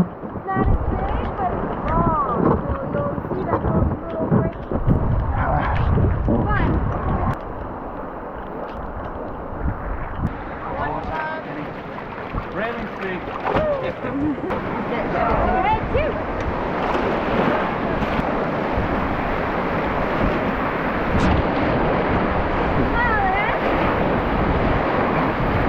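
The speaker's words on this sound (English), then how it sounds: "we're coming up to our last significant rapid of the day called Black Brook" Whitewater rapids on the Kennebec River roar steadily around a rafting group heading into the last big rapid of the day, with heavy rushing water and wind buffeting the microphone. Voices call out faintly now and then.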